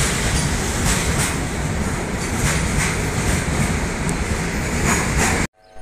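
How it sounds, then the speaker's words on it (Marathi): A long freight train rolling past at a railway station, loud and close, with a continuous rumble and rhythmic clatter of wheels over rail joints, cutting off sharply at the end. "पायी मालगाडी किती लंबी आहे."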